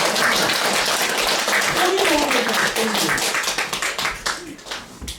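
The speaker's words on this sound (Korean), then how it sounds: "박수를 쳐요." An audience claps during a Buddhist monk's dharma talk for Buddha's Birthday, a dense burst of applause that thins into scattered individual claps toward the end, with voices talking over it.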